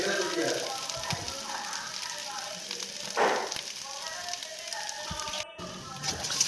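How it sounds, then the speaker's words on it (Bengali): Sliced banana stem frying in a pan, a steady soft sizzle and crackle of hot oil running throughout, with a brief louder hiss midway and faint talk in the background. "দেখুন আমি কীভাবে এটাকে ভেজে নিচ্ছি।"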